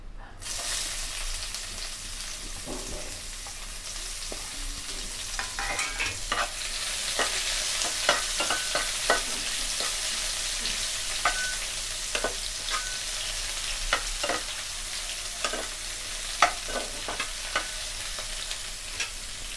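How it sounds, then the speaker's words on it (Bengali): Onions frying in a pan for dhaba-style chicken, a steady bright sizzle with repeated scraping stir strokes, close and continuous throughout. "পেঁয়াজটা ঠিক আমরা হালকা লাল করে ভেজে নেব।"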